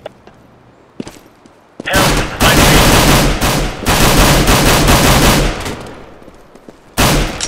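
Shots from a P2000 pistol in CS:GO, a few isolated cracks followed by long stretches of heavy sustained gunfire that cut off abruptly, then resume briefly at the end.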